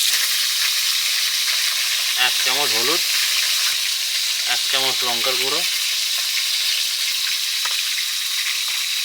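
Fish frying in hot oil in a pan, a loud continuous sizzle that runs unbroken throughout while a person speaks briefly twice over it.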